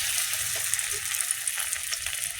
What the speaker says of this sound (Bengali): হ্যাঁ আমার মেশানো হয়ে গেছে, এবার তেলে ছাড়বো।